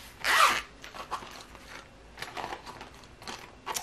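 A zipper on a small accessory bag packed with a wig is pulled open, one loud close zip followed by softer rustling and handling noises.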